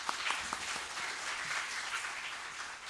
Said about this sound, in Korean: 우리 수능 시험 보고 온 우리 청년 학생들이 많이 이렇게 왔는데 한번 박수 한번 할까요?